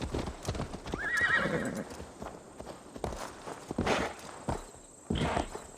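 Horse hooves clip-clopping with a neigh in the Assassin's Creed Valhalla video game, a whinny rising early on and hoofbeats pacing in bursts amid game sound, with a voice talking over part of it.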